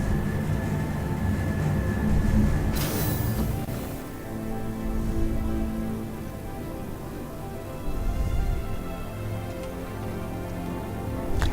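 A metro train ride in the game Star Citizen, heading from the spaceport, carries a steady low rumble and rolling hiss with a brief bright whoosh partway through, continuous and enveloping with no talking.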